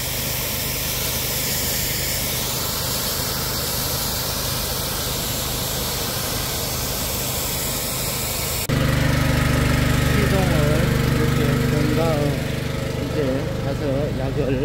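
Engine-powered pesticide sprayer running steadily in an apple orchard, a loud continuous motor drone with hissing spray throughout, shifting to a different tone partway through.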